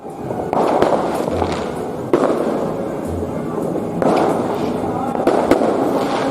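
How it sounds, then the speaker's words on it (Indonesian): Irregular pops and crackles of New Year's fireworks go off at a distance in Surabaya, rising in bursts over a busy crowd murmur while someone talks. "Ini sudah mulai kedengaran rame suara kembang api."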